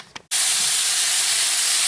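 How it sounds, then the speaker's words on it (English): After a brief quiet moment, a loud, steady sizzle bursts in and hisses continuously as steaks hit a very hot pan. "You can see it's nice and hot and sizzling."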